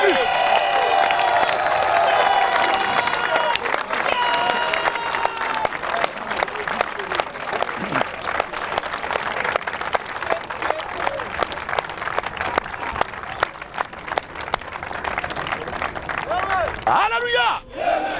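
A church congregation applauds and cheers loudly and continuously, with dense clapping and shouting voices filling the space throughout.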